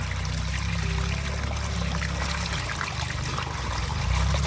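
Vegetables for Thai Nyo-style fermented som phak from Nakhon Phanom are rinsed in water, giving a steady close trickle and splash that pours without pause throughout.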